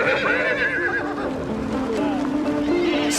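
A horse neighs and whinnies in the open Mongolian countryside, its call rising and falling over a couple of seconds, fairly close, with a faint voice and some background noise.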